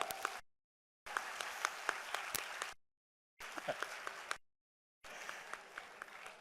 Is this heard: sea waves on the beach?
no